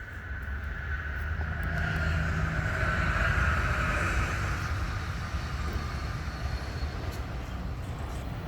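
A freight train passing on a railway in Pennsylvania produces a loud, steady rumble of rolling wagons that holds for the whole stretch without fading.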